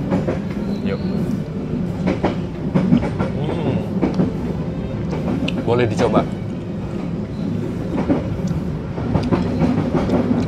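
Inside the Pasundan economy train running from Bandung to Jogja, a steady rumble and rattling carriage noise with rhythmic wheel clacks, while a voice speaks over it nearby.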